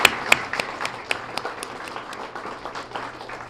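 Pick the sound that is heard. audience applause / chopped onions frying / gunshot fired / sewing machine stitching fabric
audience applause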